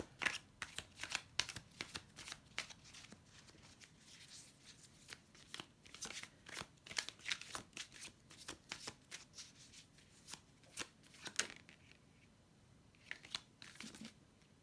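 Tarot cards being shuffled by hand in repeated crisp riffles and slaps, close and clear, with short pauses between bursts and no talking.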